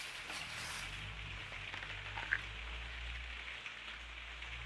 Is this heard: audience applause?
no